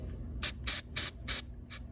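Five short bursts of carb cleaner aerosol spray hiss in quick succession, each a sharp, close blast of pressurized mist over a low background rumble.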